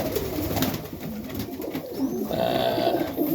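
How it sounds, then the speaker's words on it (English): Serbian highflyer pigeons coo softly in a winter loft, a low murmuring chorus of nearby birds with a few higher calls, and no voices. "Just checking out these birds."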